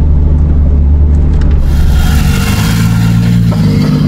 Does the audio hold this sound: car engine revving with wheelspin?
yes